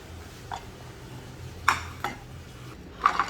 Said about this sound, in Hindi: अब हम ज़रा चलते हैं किचन की तरफ और बर्तन समेटते हैं